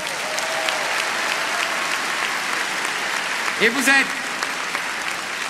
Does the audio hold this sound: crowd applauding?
yes